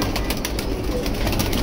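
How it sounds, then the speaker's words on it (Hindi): High flyer pigeons, female birds and young, kept in a home loft, cooing softly and continuously close by, with a low steady murmur and faint flutters in the background. "अभी आपको फीमेल कबूतर भी दिखाते हैं"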